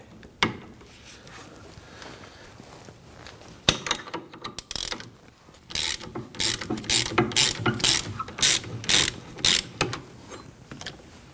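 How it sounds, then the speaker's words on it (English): An 18mm wrench ratchets on the nut of a rear sway bar link of a 2001-2009 Volvo S60, with bursts of quick, close, metallic clicking strokes after a few isolated knocks. "Use our 18mm wrench."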